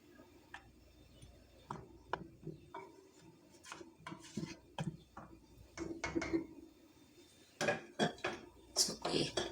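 Arvi gosht curry of taro root and mutton being ladled into a serving dish, with sparse clinks and scrapes of a spoon against metal and crockery, quiet between strokes and busier toward the end.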